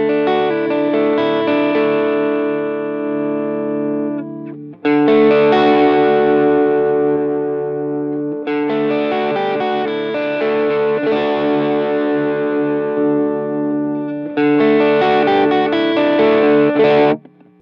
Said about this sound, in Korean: 약간 좀 두꺼운 소리를 좋아하시면 808 모드가 더 좋을 것 같아요.